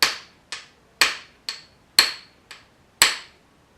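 Sharp percussive strikes on flint to knock off flakes, seven crisp clicks evenly spaced about half a second apart, close and loud with quick decays, no talking.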